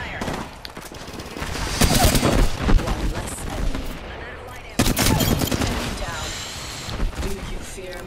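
Automatic weapons fire in the battle-royale video game Apex Legends in loud, rapid bursts with a brief pause midway, while a voice talks underneath the shooting.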